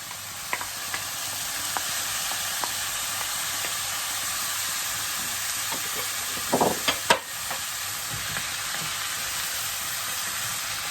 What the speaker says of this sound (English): I'm going to go in now with my tomatoes